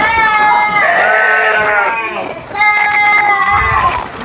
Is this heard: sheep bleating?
yes